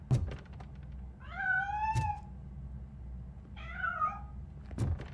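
A cat in the video game Robocop: Rogue City meows twice, clear rising-and-falling calls at moderate volume, with soft thumps and knocks at the start, middle and end over a faint background hum.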